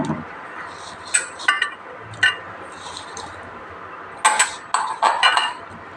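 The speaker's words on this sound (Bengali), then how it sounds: "এটা আমি ভালো করে মাখিয়ে নেবো" Boiled, drained cauliflower being mixed by hand into batter in a bowl: soft wet squishes and squelches come in short bursts, with occasional light clinks against the bowl and quiet gaps between them.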